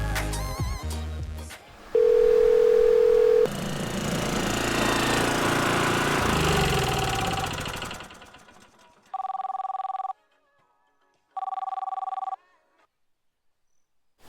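A burst of noisy clatter, a steady tone, then mechanical rumble fading out, followed by two evenly spaced telephone ringback tones with silence between.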